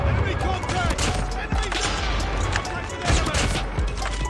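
Gunfire in Call of Duty Mobile from the DLQ sniper rifle, with several sharp shots and bursts spread through a busy mix of game effects, heard under a voice talking.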